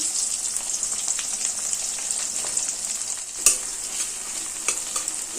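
Steady hiss of chopped onions frying in oil over a medium gas flame, with light stirring scrapes and one sharp clink partway through; no voices.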